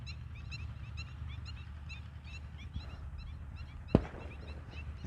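Scattered bird calls, chicken cackles and duck calls repeat across an outdoor countryside backdrop in Ayutthaya, Thailand, with a low rural hum and one sharp knock near the end.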